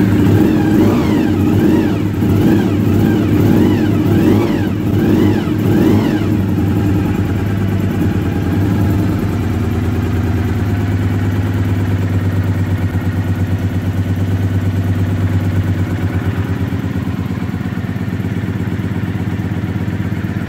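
A Honda VFR400 NC30 motorcycle engine on choke fires up and revs, with several rising and falling throttle blips early on before settling into a loud, steady close-up idle that runs to the end.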